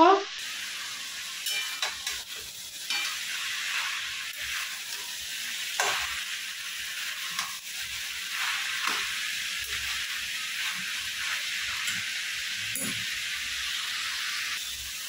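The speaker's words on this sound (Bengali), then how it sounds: "সুন্দর করে পালং শাকটা সবজির সঙ্গে মিশিয়ে নেব।" Spinach being stirred into vegetables in a frying pan, a steady close sizzle broken by occasional scraping stirs, with no talking.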